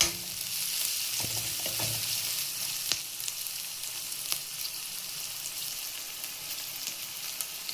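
Chopped capsicum fries in a pan with a steady, close sizzle and crackle, broken by a few sharp pops and stirring clicks, with no voices.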